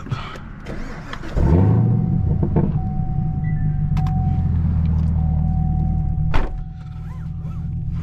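A manual Camaro ZL1 engine cranks and fires up with a sharp roar, then settles into a loud, steady idle with a brief blip of revving near the end.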